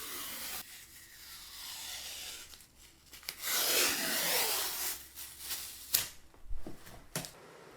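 Sanding a cured epoxy outside corner in a bathroom renovation, a steady close rubbing rasp that swells louder in the middle and then breaks into shorter scraping strokes, with no voices.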